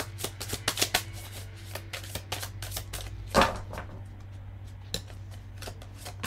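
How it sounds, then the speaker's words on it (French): Tarot cards drawn one by one from a deck and laid out in a spread, a run of crisp papery flicks and slaps, close and fairly quiet, with one louder snap midway and no talking. "Et on va prendre encore 2 cartes."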